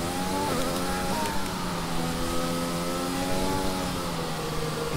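F1 car engine in the F1 2020 video game, a steady high-pitched whine that steps down in pitch several times as the car brakes and downshifts into a corner.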